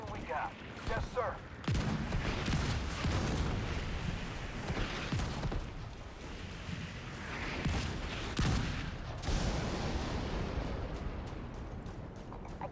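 Dense, sustained gunfire and explosions from The Division 2 fill the whole stretch, a loud continuous barrage of overlapping shots with heavier blasts rising and falling, and voices shouting over the din.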